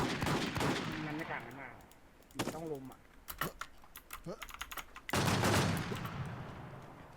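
Video game gunfire cracks out in sharp single shots and short rapid bursts amid other clatter, with quieter gaps in between, while someone talks over the action.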